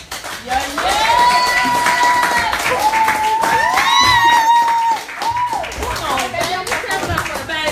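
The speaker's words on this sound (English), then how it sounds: "Clap it up, clap it up." A crowd at a spoken-word open mic claps and cheers loudly after a performance, with whoops and raised voices over a steady wash of hand claps that eases slightly toward the end.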